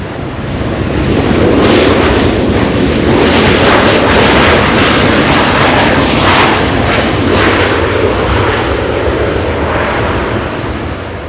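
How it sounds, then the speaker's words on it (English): A DHL Boeing 777 departing on runway 25 right at Los Angeles International Airport, bound for Sydney, with a loud sustained jet engine roar swelling and holding, rumbling and gusty, with wind buffeting the microphone and no voices. "That's a 777. Flying to Sydney, Australia, DHL 232 using 25 right for departure."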